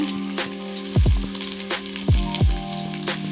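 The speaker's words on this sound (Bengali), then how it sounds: "আলুটা ভাজা হচ্ছে" Potatoes frying in hot oil in a home kitchen give a steady, fairly loud sizzle, with a few sharp falling tonal sounds rising over it now and then.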